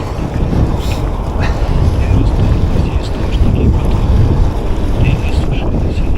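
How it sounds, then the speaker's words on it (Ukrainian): Steady wind roars across the microphone during a winter gravel bike ride at around 0 to minus 1 degrees, a continuous low rumbling buffet that stays loud and fairly even throughout. "И вітерець такий помірний."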